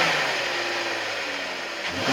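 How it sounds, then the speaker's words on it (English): Jeep Grand Cherokee (2011-2015) engine fitted with a K&N cold air intake, idling and then given a couple of small revs, a steady close mid-range engine drone that swells slightly at the end. "just going to give it a couple little revs."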